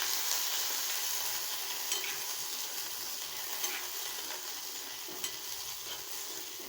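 Garlic and curry leaves sautéing in a pan for a Tamil black-eyed pea curry, a quiet even sizzle with a few soft scraping stirs and small clicks, no voices.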